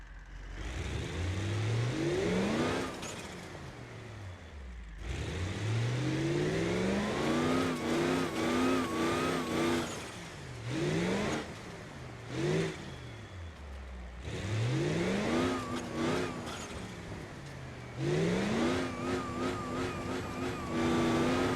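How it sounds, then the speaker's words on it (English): Turbocharged car engine in BeamNG.drive revving hard in repeated loud bursts, pitch climbing and dropping with each rev, turbo whine and flutter between pulls, close and continuous without any talking. "Let's go ahead and give you a full volume turbo so you can experience it in full."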